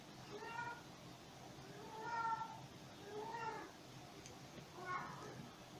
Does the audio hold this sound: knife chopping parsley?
no